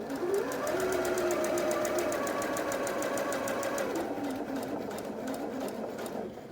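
Computerized sewing machine stitching fabric under foot-pedal control, a rapid, even mechanical whirr with a clicking needle rhythm and a steady motor hum, close and continuous.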